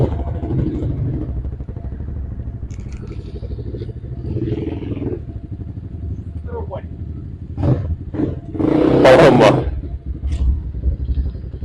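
A KOVI enduro motorcycle engine idles with a low rumble, then revs up sharply in a short burst near the end, while people talk nearby.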